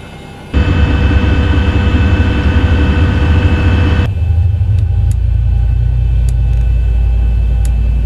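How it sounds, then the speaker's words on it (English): Simulated Boeing 737-800 engine 1 spooling up in the X-Plane 11 flight simulator: a steady, loud broadband roar with whining tones that drops into a lower, constant hum partway through, with faint clicks over it and no talking. "Start, turn on engine 1."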